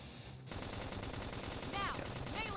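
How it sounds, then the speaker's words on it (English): Rapid automatic gunfire in the video game Xenoblade Chronicles X rattles continuously and loudly, a dense fusillade of shots over a steady battle backdrop, with brief whooshing effects near the end. "Now, if we can just tackle them top with gunfire."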